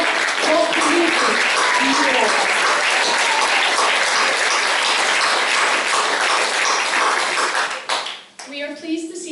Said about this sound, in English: So a round of applause for our very beautiful Victoria Thompson